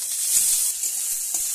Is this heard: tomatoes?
yes